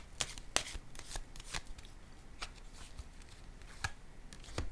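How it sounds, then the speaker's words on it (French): Playing cards handled during a game, with a series of sharp close card snaps and flicks in an irregular rhythm over quiet background noise. "Je vais déposer une carte."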